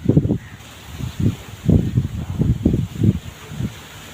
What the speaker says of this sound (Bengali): দেখেন এখনো প্রচুর পরিমাণে বাতাস হচ্ছে।